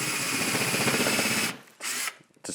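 A power drill runs in reverse to start holes in pine guitar wood, a steady high whirring for about a second and a half, then stopping, briefly whirring again and cutting out.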